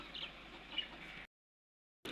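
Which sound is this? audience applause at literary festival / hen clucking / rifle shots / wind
hen clucking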